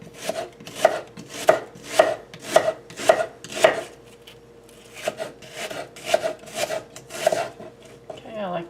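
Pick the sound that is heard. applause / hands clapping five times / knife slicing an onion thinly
knife slicing an onion thinly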